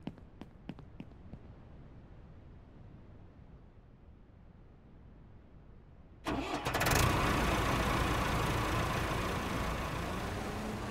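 In the Ranch Simulator video game, a tractor engine starts after a quiet stretch with faint clicks, then runs at a loud, steady idle that continues to the end.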